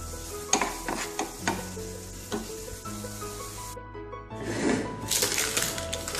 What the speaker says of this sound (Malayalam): ഈ പൈനാപ്പിളിന്റെ ഈ നീരൊക്കെ ഒന്ന് വറ്റി പഞ്ചസാര കൂടി ഇതിൽ മിക്സ് ആയി വരണം അതുവരെ ഒന്ന് വഴറ്റി എടുത്താൽ മതിയാവും